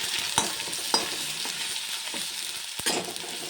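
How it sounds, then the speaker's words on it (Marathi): Cumin, mustard seeds and ginger-garlic paste sizzle steadily in hot oil in a kadai, with occasional sharp pops and a few stirring clinks, close and continuous with no talk. "तेल असं छान गरम झालं आहे, त्यामध्ये जिरे मोहरी आणि अद्रक लसूणची पेस्ट टाकून द्यायची।"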